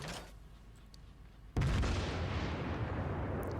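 A battleship's main guns fire a loud, close heavy boom in a World of Warships naval gunnery duel, erupting suddenly after a quieter stretch and trailing into a long rumbling roar that fills the rest of the moment.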